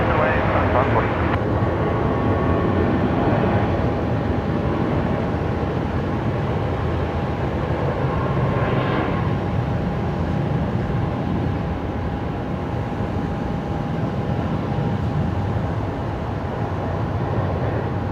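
Airliner taking off from runway 19 left at Brisbane Airport at night, a loud continuous engine roar with a steady tone, heard from nearby and holding without letup throughout.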